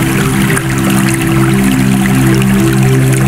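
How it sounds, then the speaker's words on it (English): A waterfall roars steadily across the whole stretch, a constant wash of rushing water mixed with a sustained, droning relaxation-style music bed and no speech. "it's a 3 hours of waterfalling view with its sound effect"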